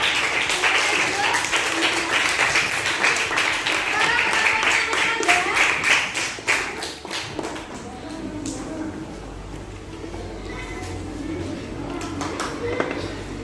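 Classroom applause for a student group, a roomful of hands clapping loudly and steadily for several seconds before thinning out, with a teacher's voice speaking over and after it.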